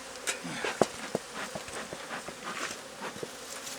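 Angry honeybees swarm around a beekeeper at an aggressive hive, a dense steady buzzing close by with sharp individual bee whines darting in and out, no talking.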